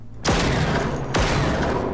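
Two loud sniper rifle shots ring out in the video game Generation Zero, each a sharp crack with a long booming tail, close and spaced about a second apart.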